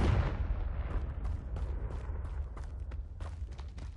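A deep, rumbling blast from the Confringo spell in a PS5 wizarding video game rolls on as a low, sustained boom, with scattered faint crackles and thuds trailing off over a few seconds.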